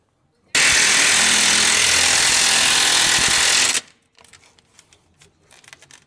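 A loud power tool, probably an impact wrench, hammers steadily for about three seconds, tightening rear end U-bolts on an old Dodge Power Wagon being repaired for frame rail rot, then stops, leaving faint clinks and workshop handling noises.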